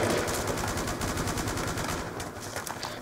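Rapid gunfire in the Call of Duty video game crackles in quick repeated bursts at moderate volume, steady across the short stretch.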